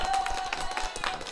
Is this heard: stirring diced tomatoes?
no